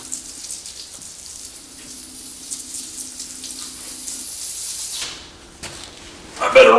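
A 1981 El Camino's engine bay is soaked with water and foam cleaner. A steady spray hisses and patters beneath the car for several seconds, pauses, then returns with a louder, sharper splash at the end.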